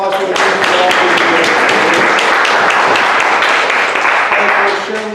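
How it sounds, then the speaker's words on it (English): Audience applause for the hosts fills the room as dense, steady clapping from a large crowd, loud and continuous throughout, with no talk over it. "We should give them all a round of applause for the good job they do."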